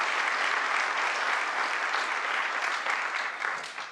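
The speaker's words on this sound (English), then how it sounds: "All right, another round of applause." A conference audience applauds a speaker in a dense, sustained round of clapping, moderately loud and continuous, tapering slightly at the end.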